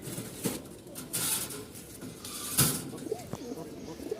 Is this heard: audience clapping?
no